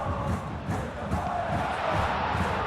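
A stadium crowd in a simulated Bayern Munich vs Borussia Dortmund football match roars and murmurs in a steady, dense wash, with swelling bursts of chanting.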